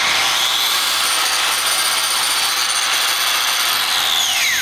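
A Fein CG15 angle grinder with a 100% duty cycle runs steadily at high speed, a loud continuous whine that holds close and unbroken, with a slight pitch sweep near the end.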